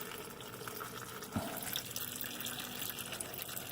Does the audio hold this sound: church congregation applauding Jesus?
no